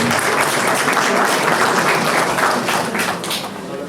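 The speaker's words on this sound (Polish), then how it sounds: "Duże brawa." A crowd at a regional medical rescue day ceremony in Klebark Wielki gives a loud, dense round of applause that holds steady, then thins slightly toward the end.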